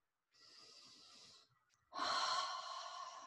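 Slow, relaxed breathing close to the listener: a soft, airy inhale, a short pause, then a fuller, louder exhale, quiet and unhurried.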